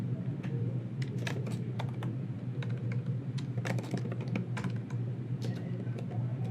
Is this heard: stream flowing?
no